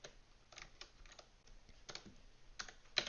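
Quiet, rapid clicking of keys on a computer keyboard as a command is typed for a Minecraft build, irregular taps close to the microphone with no talking.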